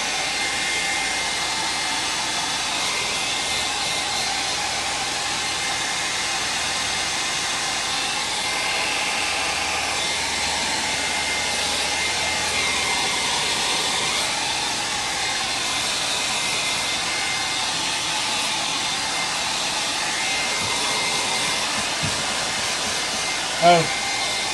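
A hair dryer blows steadily on a painting, making a continuous loud airy roar for the whole stretch, with no talking.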